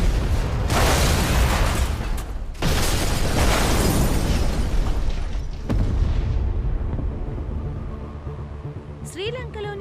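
Bomb blasts in a Telugu film scene boom loud and near, three heavy explosions with long rumbling tails, fading to a low roar as a voice comes in at the end.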